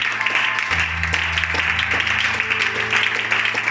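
A church congregation at a French-language sermon breaks into dense, continuous applause with some cheering mixed in, sustained throughout.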